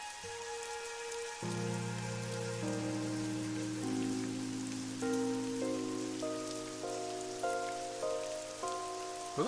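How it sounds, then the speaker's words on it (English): Steady hiss of rain in the video game AI: The Somnium Files falls beneath soft, sustained game music notes, continuous and fairly quiet throughout. "It's raining."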